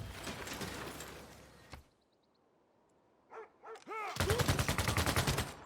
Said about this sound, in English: machine guns against the scout